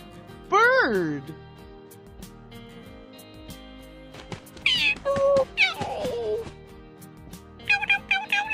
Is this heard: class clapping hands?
no